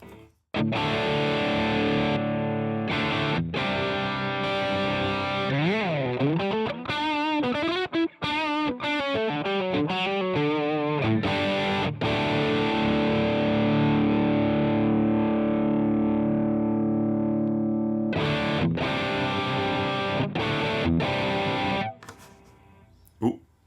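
A heavily distorted electric guitar through an AmpliTube 5 amp simulator with delay plays sustained chords and bending notes for a long stretch, loud and close, with short breaks between phrases.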